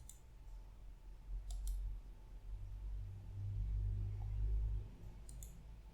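Computer mouse clicks while working in Visual Studio 2022, a few faint, sharp ticks spaced apart over a low rumbling room noise.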